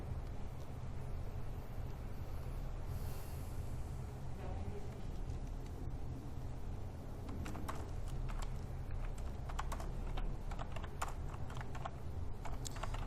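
Someone types on a computer keyboard while entering text for a freelancing data-entry task. Light, close clicks come in irregular bursts and grow denser partway through, over a steady background hiss.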